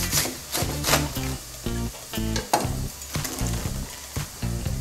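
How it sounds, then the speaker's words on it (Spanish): Breaded flamenquines fry in oil under a bright, steady sizzle, broken by repeated rhythmic thumps and clatters from handling in the pan. No one speaks. "Y ahora ya lo que nos queda es freírlos."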